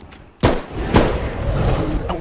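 Gunfire bursts out in a Bigfoot video game, a loud crack followed about half a second later by a second one, both trailing into a rumbling wash of noise.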